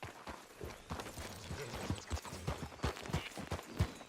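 Horse hooves clip-clop in an uneven, trotting rhythm in the video game Red Dead Redemption 2, fairly quiet and close, with no voices.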